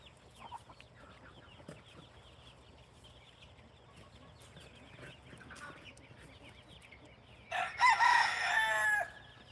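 A rooster crows loudly once near the end, a strained, rising call over a quiet outdoor background with scattered faint chicken clucks and rustles before it.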